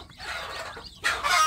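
Native village chicks peep inside a plywood box, giving high, busy chirps near at hand with a short gap and then a louder burst toward the end.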